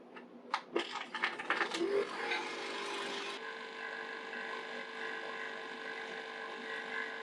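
A few clinks and clatters give way to a steady mechanical hum of a freeze dryer's vacuum pump motor that drones on evenly without pause.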